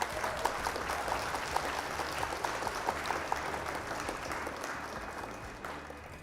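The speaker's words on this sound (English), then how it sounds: "Round of applause for our opponent, Trollfjord." Applause from an audience for a Trollfjord opponent in a card game, steady and fairly faint, continuing throughout and fading slightly toward the end.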